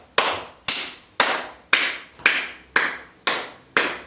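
Hands patting or clapping in a steady, even rhythm during an intermediate yoga routine, eight sharp close slaps about half a second apart, no voices.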